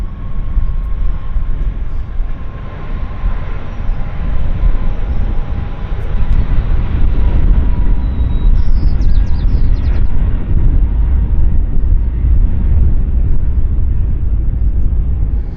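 A passenger jet departs Vancouver International Airport bound for Edmonton, a loud, continuous low engine roar and rumble holding steady throughout, heard from the ground at a distance.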